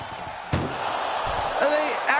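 A door slams shut on an ambulance in a WWE wrestling video game, one sharp hit standing out over crowd noise and commentary-style talk.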